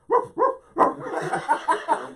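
A person mimics a dog, letting out two sharp barks followed by a run of quicker yappy woofs, close and loud.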